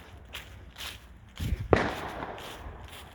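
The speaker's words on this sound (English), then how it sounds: "There's plenty of crackles and snaps and pops." Firecrackers crackle and pop outdoors on bonfire night, with a few faint snaps followed by a louder cluster of sharp bangs midway before the sound settles to a low background hiss.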